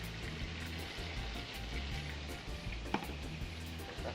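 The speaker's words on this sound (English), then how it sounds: "That's frying lovely." Chicken frying in a pan gives a steady, faint sizzle with soft crackling, continuous and close, with a single brief clink partway through.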